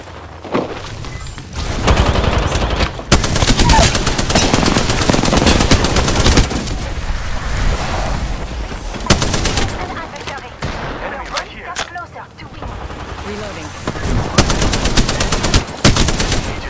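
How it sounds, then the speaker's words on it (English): Automatic gunfire and shots from the Apex Legends video game, loud and nearly continuous bursts with rapid fusillades and a few booms, with game voices mixed under the shooting. "Getting shot at."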